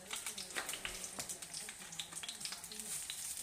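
Tomatoes fry in a small pan, a faint, steady crackling sizzle with scattered pops and spatters heard close but quiet, with no talking.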